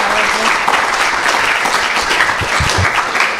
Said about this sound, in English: Can we please give round of applause?